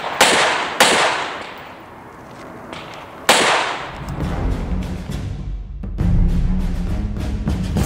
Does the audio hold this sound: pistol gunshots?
yes